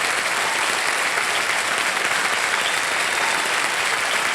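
Sustained, dense applause from a KBC (Kaun Banega Crorepati) studio audience, steady and loud throughout with no pauses and no talking.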